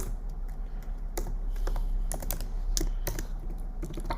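Typing on a computer keyboard while entering code for an ML model deployment tutorial, a run of crisp key clicks in irregular bursts over faint steady background hum.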